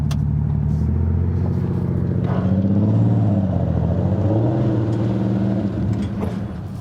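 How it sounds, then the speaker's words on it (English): A Porsche engine idling and revving as the car is driven up the ramps onto a U-Haul auto transport trailer, a steady close rumble with a rising rev in the middle, then easing off toward the end. "we're going to load this Porsche onto this auto transport"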